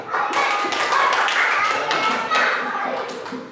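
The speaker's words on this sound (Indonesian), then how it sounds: "kita tepuk tangan dulu untuk kelompok auditori" Classroom students clap together for a presenting group, a steady patter of many hands at close range that runs through the whole stretch, with faint voices mixed underneath.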